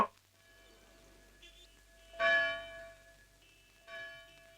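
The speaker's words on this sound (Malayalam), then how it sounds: "പള്ളിമണി കേൾക്കുന്നുണ്ട്" A church bell rings in a quiet room, with a louder strike near the middle and another near the end, its tones lingering faintly in between.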